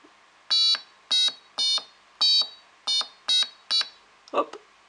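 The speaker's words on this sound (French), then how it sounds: "Et voilà, nous avons notre petit piano." A series of seven short electronic buzzer tones at different pitches from an Arduino, spaced about half a second apart like simple piano notes, followed by a brief rustle.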